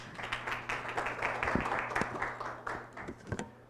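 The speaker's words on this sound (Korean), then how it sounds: "박수 부탁드립니다" A modest round of clapping rises from a forum audience as a deep-tech startup presenter takes the stage, fairly quiet and uneven, with a few louder individual claps standing out near the end.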